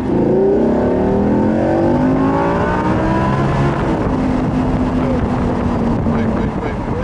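A car accelerating hard on a race track, its engine revving loudly and climbing steadily in pitch, with constant wind rush across the microphone throughout.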